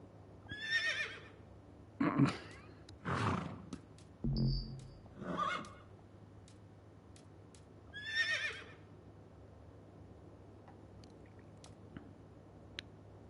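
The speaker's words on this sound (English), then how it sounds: "There's a new horse." A horse in the video game Assassin's Creed Valhalla gives several close, breathy whinnies and snorts at irregular intervals, with soft chewing-like noises between them and no speech.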